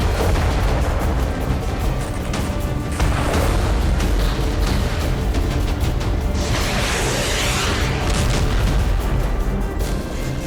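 Heavy missile and rocket explosions pound continuously over Kyiv, layered into a dense, roaring barrage with whooshing bursts and no pause.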